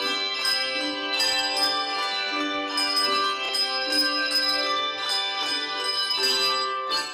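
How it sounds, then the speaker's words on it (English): A youth handbell choir rings tuned handbells during a year-end holiday season performance in Ephrata, sustained overlapping chimes and bright struck tones sounding continuously and fairly loud with no voices. "The ringing of bells is resounding throughout Ephrata as the year comes to an end."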